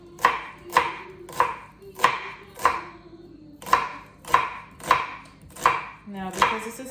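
An onion being chopped on a board for a pizza topping makes about ten evenly spaced knife chops, close and crisp, with no talking.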